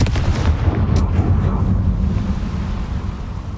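The Confringo spell explodes in the Hogwarts Legacy video game as one loud, heavy, booming blast that rumbles on steadily with no voices over it.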